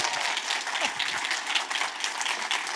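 An audience at a Ruby programming conference gives a round of applause for a game-show contestant, a dense, even spread of clapping from a sizeable crowd.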